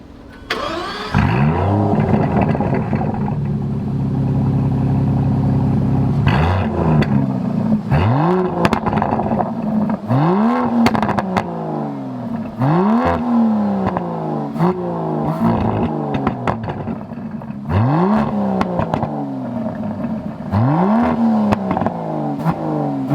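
A V12 Aston Martin DBS Superleggera Volante engine starts, then is blipped repeatedly, each rev climbing sharply and falling back, loud and close, in a rhythmic series of roaring surges.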